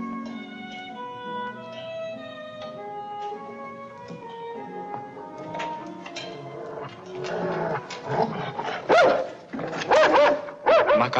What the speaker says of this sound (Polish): Hej, psy, o mnie! Co za hałasy czynicie?